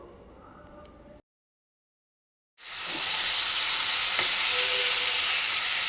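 Soft fish cooking with onions over low heat. After a brief silent gap, a steady broad sizzle and hiss of frying fills the rest of the time, with a faint utensil tap.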